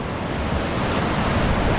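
Fast-running river water at Fatherford on Dartmoor, England, spills over rocks and a small bridge, making a loud, dense, continuous roar with no pauses and steady wind-like rushing.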